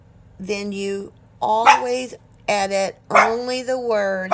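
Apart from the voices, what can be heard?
dogs barking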